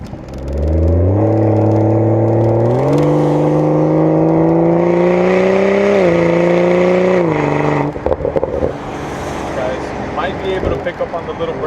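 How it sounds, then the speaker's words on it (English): A BMW X3 M40i in sport mode revs with a strong, smooth exhaust note that climbs in steps through the gears and then drops off, followed by scattered crackling burbles on the overrun. "Pick up on the little burbles. It does have some burbles in sport individual."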